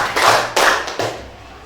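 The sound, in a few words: clapping three times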